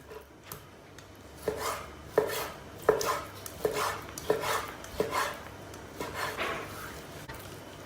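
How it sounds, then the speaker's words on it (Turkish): A knife chops chicken into thin strips on a cutting board for a Turkish chicken recipe, a steady run of close, crisp blade knocks with a faint clink of dishes between strokes. "Pide doğrarken çok fazla kalın doğramayın"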